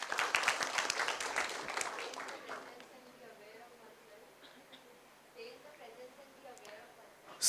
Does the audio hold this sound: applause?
yes